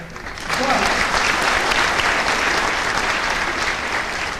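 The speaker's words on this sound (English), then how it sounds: "So I want to give him a round of applause." A large crowd at a Kosovo independence anniversary event at New York City Hall breaks into applause, swelling quickly after a brief lead-in and then holding as a loud, dense wash of clapping.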